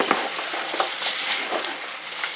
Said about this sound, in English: Now let's just get in there with our hands and mix it all up.